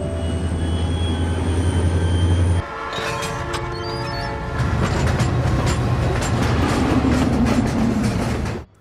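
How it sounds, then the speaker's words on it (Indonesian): A train rumbles past on the rails with a steady low roar and metallic clatter, a horn-like tone sounding partway through, fairly close and continuous. "Will dan Frank kemudian mulai menjalankan kereta untuk membawa beberapa gerbong."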